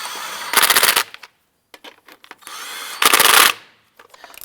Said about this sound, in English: Now that we have our lug nuts installed, let's go ahead and snug them all down.